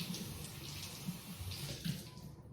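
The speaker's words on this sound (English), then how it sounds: "I get just a kitchen towel and I will soak this and then wring it out" A wet kitchen towel is soaked under running water and wrung out, giving a steady close splash and trickle with small surges of dripping, heard alone without any talking.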